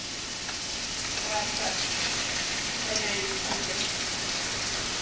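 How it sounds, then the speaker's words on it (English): Large sea scallops frying in a hot pan, giving a steady, rain-like sizzle close up with a few faint higher clicks, holding at an even level from start to end. "I'm going to go ahead and start adding these scallops"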